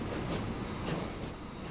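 Train rolling along rail track in the video game Transport Fever 2, a steady mid-level rumble of wheels and wagons with a faint high squeal, running continuously with no talk.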